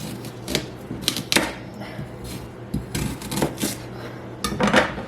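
A knife chops fresh garden rhubarb stalks on a cutting board, trimming off the hard ends, in a run of sharp, irregular clicks and thuds, some in quick pairs and others spaced apart, close by.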